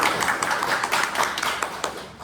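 A school class claps for the winner of a classroom economics activity, a burst of quick, uneven hand claps from a small group that trails off toward the end.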